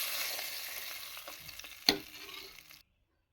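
Sizzling tempering is stirred into sambar rice, a soft frying hiss with light scraping and one sharp clink of a spoon before it stops abruptly.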